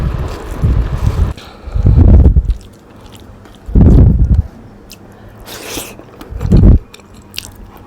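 Aloo kachori being bitten and chewed up close, four loud crunchy bites spaced a second or two apart, with softer chewing and mouth sounds between.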